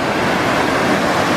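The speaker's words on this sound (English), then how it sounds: "This waterfall is gorgeous." A waterfall in New Zealand's Bay of Plenty gives a loud, unbroken rushing roar heard close by, steady throughout with no talking.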